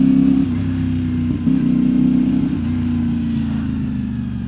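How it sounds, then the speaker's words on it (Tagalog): A 450MT motorcycle with a loud exhaust pipe rumbles steadily up close, a deep, continuous engine drone with slight shifts in revs and no voices. "Medyo malakas yung pipe lang talaga."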